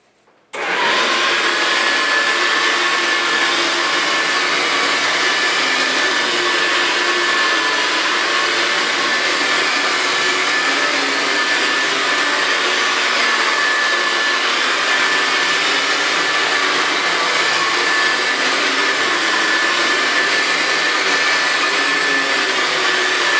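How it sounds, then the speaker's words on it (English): A carpet-spot extraction vacuum sucks wet dirt out of a sponge-treated carpet, a loud steady roar with a high whine held nearly constant, close and alone. "I grab my machine and I vacuum it out."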